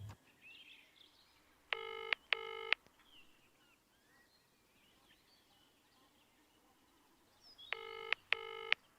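A telephone dial tone sequence is heard during a call: two short bursts of paired electronic tones early on, then a quiet pause with faint background chirps, then two more paired tone bursts near the end, with no voices.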